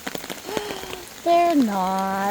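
Steady rain falls outdoors during a walk with dogs, a soft continuous patter running under people talking nearby.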